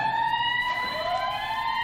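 Several siren tones wail together at once, steady and fairly loud, one pitch sliding slowly downward, with no voices.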